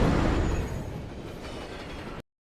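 A long train rolls past in a film scene, a dense, steady rumble with rail clatter and a faint high squeal, loud at first and easing slightly before cutting off abruptly.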